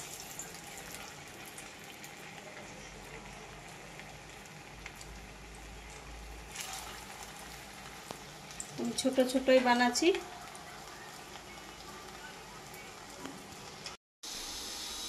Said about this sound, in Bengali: তেল গরম হয়ে গেছে, এবার আমি বড়াগুলো ছাড়িব।